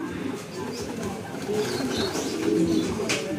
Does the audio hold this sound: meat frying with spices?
no